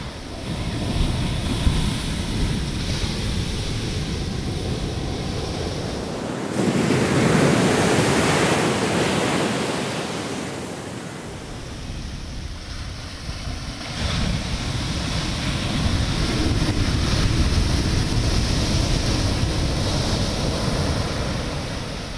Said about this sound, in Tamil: தேங்காப்பட்டினம் கடலும் அந்த கடல் அலையோட ஓசையும்